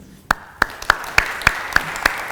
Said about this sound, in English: Can we have a round of applause for today's BLT sponsor, Axe Fairhaven?